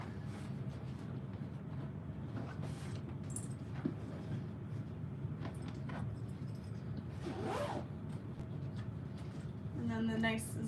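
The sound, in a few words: zipper on a tote bag's zipper panel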